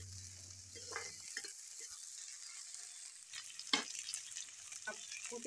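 Cumin seeds and green chillies fry in hot oil in a wok, a steady faint sizzle broken by scraping stir strokes of a spoon against the pan, close, with no talking.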